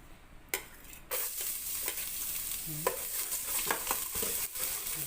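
Garlic sautés in hot oil for salmon-head sinigang, a steady broadband sizzle that jumps louder after a second, with intermittent utensil scrapes and taps from stirring close by.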